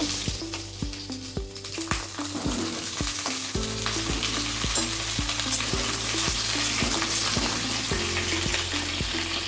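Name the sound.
pointed gourd frying and being stirred in mustard oil in a wok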